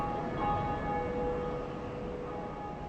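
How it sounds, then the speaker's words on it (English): A great bell tolls in the video game Dark Souls after a lever is pulled, its ringing tone hanging and slowly fading over a low, rumbling ambient drone, with no talk. "For whom the bell tolleth"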